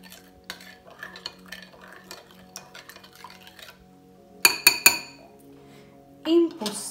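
A spoon scrapes and stirs around a bowl of flour, yeast and water for bread dough in soft, uneven strokes, with a few sharp clinks of metal against the rim.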